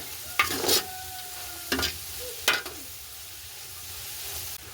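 Chopped leeks frying in a pan, with a steady soft sizzle broken by three short bursts of scraping as the pan is stirred.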